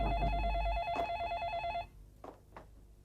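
A telephone rings with a warbling electronic trill that cuts off after under two seconds, followed by a couple of faint clicks as the call connects.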